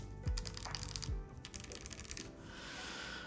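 Rapid clacky keystrokes on a mechanical keyboard, a quick cluster of taps followed by a few louder thocks, close up and fairly quiet, with no voices.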